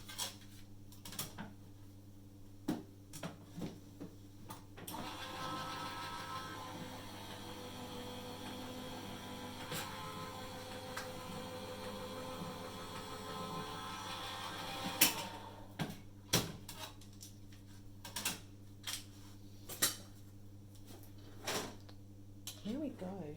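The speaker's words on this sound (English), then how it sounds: "I run that through my die cutting machine" A die cutting machine runs for paper crafting with a soft, steady mechanical whir that lasts about ten seconds. It stays faint and close, with scattered desk clicks and handling knocks before and after.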